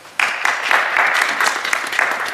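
Audience applause at a 2016 youth play at Dar al Zahra, a steady patter of clapping from a modest crowd that starts abruptly and holds even and fairly loud, without talk.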